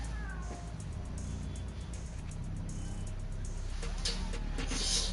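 A cat meows in a Spider-Man video game, the cries sitting over a steady low game backdrop with some rumbling engine-like noise throughout.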